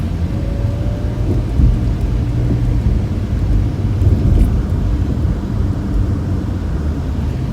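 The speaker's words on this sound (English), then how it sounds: "As expected, a build-up of traffic as we approach the stoplights." Road traffic in Kingston, Jamaica builds up near stoplights, with a steady low rumble of engines and passing vehicles heard from inside a car, loud and continuous.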